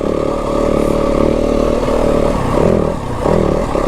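A Yamaha WR 250F dirt bike engine drones steadily with rising and falling revs while riding loose, rocky single track in Flagstaff, with clattering from the terrain.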